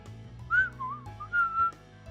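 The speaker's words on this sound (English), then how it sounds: "I'm just pretending she's whistling." Someone whistles a few bright, wavering notes of a short tune over soft game background music, fairly close and alone without talk.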